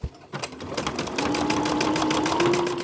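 A sewing machine stitching signatures for a soft-cover junk journal, with a rapid, steady mechanical needle rhythm running close and continuous after a brief start-up.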